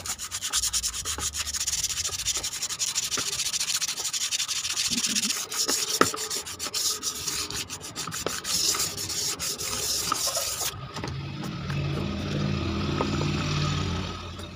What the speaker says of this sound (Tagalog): Lihayin nyo para kumintabuli.